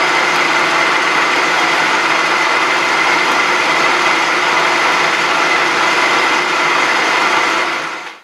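A metal lathe turns down the diameter of a ball turner body, giving a loud, continuous broadband whirr and cutting hiss that holds steady for several seconds before quickly winding down at the end, with no talk.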